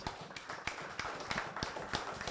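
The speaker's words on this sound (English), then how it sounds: "Let's give the minister a round of applause." Sparse applause for a minister at an anniversary media launch, a thin scattering of distinct claps at an uneven rhythm over a low room hum, fairly quiet and with no voices.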